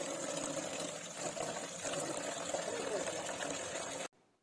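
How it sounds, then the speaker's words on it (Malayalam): Hibiscus leaves, aloe vera and herbs are washed in water, a continuous splashing, running-water wash close by that cuts off abruptly near the end. "ഇതൊക്കെ നന്നായി കഴുകുക."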